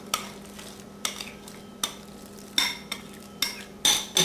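Ground pork and drained cabbage are mixed by hand for steamed bun filling, with about eight distinct wet slapping squelches at irregular intervals against a quiet kitchen background.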